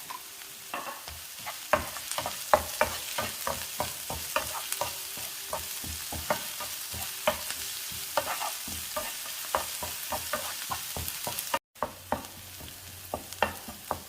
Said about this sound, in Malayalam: സവാളയും ഉള്ളിയൊക്കെ ഒന്ന് മൂത്ത് വന്നിട്ടുണ്ട്